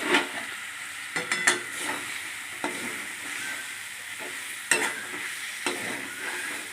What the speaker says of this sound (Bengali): দিয়ে ভালো করে খুন্তি দিয়ে নাড়তে থাকলাম, মশলার সঙ্গে ভালো করে চিকেনটাকে কষাতে থাকলাম।